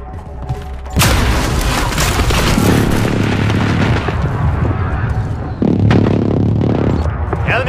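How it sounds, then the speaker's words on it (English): Precision airstrike explosions in the video game Plunder, two loud booming blasts a few seconds apart, each followed by a rumbling, crackling roar that hangs in the air. "Enemy precision airstrike."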